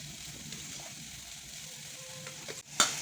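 A ginger, cumin and chili paste with curd frying in oil in a wok makes a soft, steady sizzle, quiet and close, with a brief louder stir or clatter near the end.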